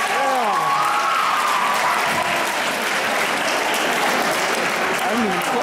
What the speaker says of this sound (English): Now let's give him a big hand.